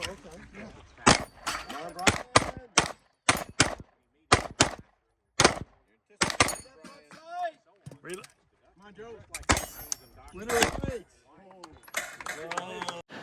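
Sharp, loud gunshots crack out in rapid irregular strings during the final round of an outdoor desert shooting competition, with brief pauses for reloading and voices speaking between shots.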